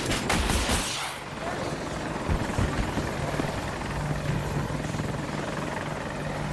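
A helicopter's rotor roar rumbles steadily overhead during a Battlefield 2042 Conquest match on El Alamein, loud and continuous, with gunfire crackling through the mix.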